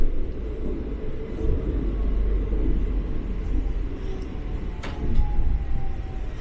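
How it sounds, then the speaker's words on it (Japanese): Steady low rumble inside a moving Utsunomiya Light Rail tram, with road traffic swelling and fading alongside as cars drive right beside it, and a short sharp knock near the end. "すぐ横を車が走るのも路面電車ならではのことです。"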